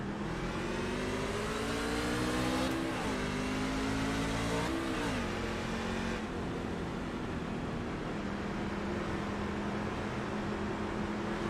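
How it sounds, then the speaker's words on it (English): Race truck engine in an iRacing Truck Series race, loud and continuous, revving up and dropping back as it shifts through gears twice, then holding a steady drone with on- and off-throttle changes. "you guys can hear exactly him shifting through the gears, him getting on the gas and off the gas"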